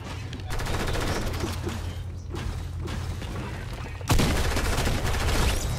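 Gunfire from the video game Fortnite. Dense, rapid volleys of shots run almost continuously, with a louder burst near the end and mechanical clicks mixed in.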